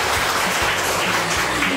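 Steady, dense applause from a seated audience at a Cosmopolitan and Urban Decay Cyber Smile campaign talk concert, even and continuous throughout with no voices over it.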